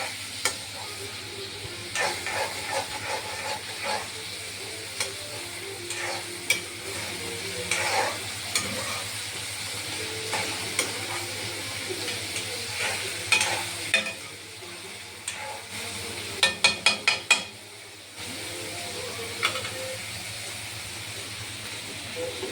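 Konkani-style egg bhurji fries in a pan under a steady hiss and sizzle while a spatula stirs and scrapes, with a quick run of sharp metallic taps near the end and no talk.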